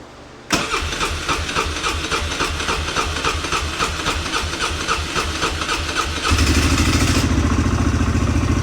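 A Polaris Hawkeye 4x4 ATV, left sitting for ten months, cranks briefly and catches, then settles into a steady, loud idle with the choke on and a faint knock from the clutch.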